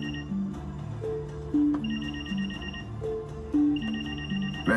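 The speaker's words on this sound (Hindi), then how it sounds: "फोन है सर।" A telephone rings with a repeating melodic electronic tone pattern, cycling steadily several times at moderate volume.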